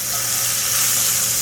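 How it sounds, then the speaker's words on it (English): Raw onions sautéing in a pan, a steady close sizzle and crackle of frying that continues without a break and with no talking. "we're going to saute some onions"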